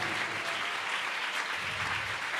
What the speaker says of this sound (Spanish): Dele más fuerte ese aplauso a Jesús.